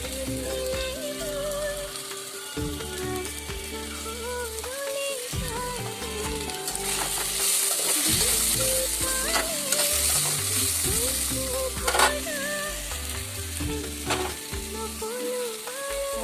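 Turmeric sizzles and crackles steadily in hot oil in a pan as it is stirred, with background music playing throughout.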